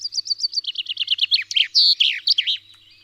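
A small bird, a tit, sings alone in a quick series of bright, evenly spaced chirps that speed into a rapid trill, then breaks into a few louder, longer whistled notes, close and clear.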